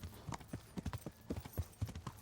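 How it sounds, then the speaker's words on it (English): Horse hooves gallop at full speed in a medieval action video game set at Skalitz, a rapid, steady clip-clop rhythm thudding loudly and close throughout, with no talk over it. "always pass them when you're at full speed, full gallop"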